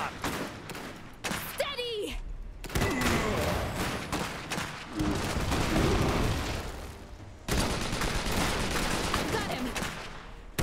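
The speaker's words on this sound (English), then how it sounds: "We're taking fire!" Dense gunfire and machine-gun bursts in the video game Iron Harvest, a loud continuous battle din with booms, heard under urgent shouted voices.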